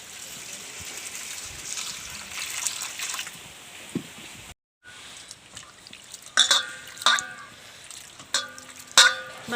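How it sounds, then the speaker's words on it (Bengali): Flattened rice (poha) being rinsed in water, with soft sloshing followed by a series of close, gurgling splashes and trickles repeating at a steady pace. "প্রথমে আমি চিড়াগুলো ধুয়ে নেব।"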